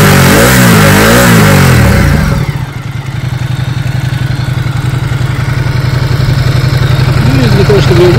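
A 2019 Ducati Diavel motorcycle engine idles close by in a steady, loud, pulsing throb after a voice speaks over it at the start.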